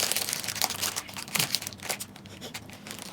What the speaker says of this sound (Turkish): İlk önce bunun paketini açayım.